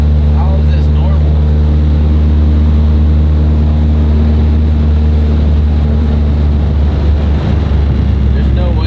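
A failing drive shaft on a Chevrolet SS sedan droning loudly and steadily from start to end, a heavy low rumble with a continuous whine layered over it.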